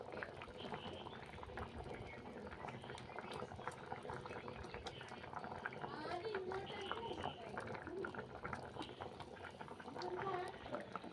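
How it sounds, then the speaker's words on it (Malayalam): A pot of fish curry bubbles at a steady simmer, the boiling loud and continuous throughout with faint voices in the background. "മീൻകറി നന്നായിട്ട് തിളച്ച് നല്ല വെന്തിട്ടുണ്ട്."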